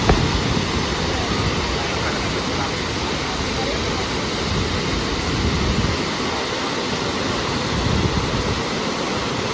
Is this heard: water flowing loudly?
yes